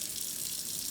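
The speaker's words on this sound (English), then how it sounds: "you can also just run it under the tap." Lukewarm water running steadily from a tap, a continuous close hiss and splash with no breaks.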